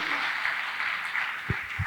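Audience applause for a guest at a career-guidance talk, a steady wash of clapping at moderate level with a couple of low thumps near the end.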